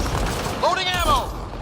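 Sci-fi weapon reloading in Mass Effect: Andromeda, a short close mechanical ratcheting click and whirr lasting under a second.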